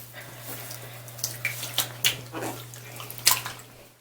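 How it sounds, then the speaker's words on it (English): Water splashes and trickles as an infant is rinsed with a washcloth in a shallow bathtub, in soft, irregular pours and drips that come close and fairly quiet, over a steady low hum. "So now the only thing on this washcloth is mostly just water, so I kind of rinse him down a little bit."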